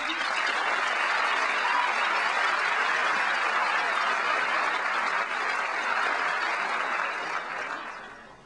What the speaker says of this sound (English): Let's have a big round of applause for Ron.